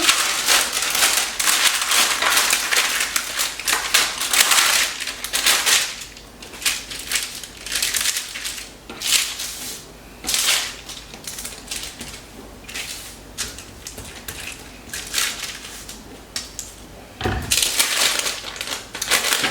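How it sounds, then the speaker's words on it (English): Crisp, irregular crinkling of paper being wrapped around soft compound butter and shaped into a log, close and fairly loud in repeated bursts with short pauses, no talking. "I'm going to use the paper to kind of shape this into a log."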